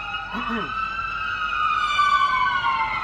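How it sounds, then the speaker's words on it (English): A wailing emergency vehicle siren, from a passing fire truck, sweeps up and down nearby, loud and continuous, with traffic noise underneath. "So the sirens going on"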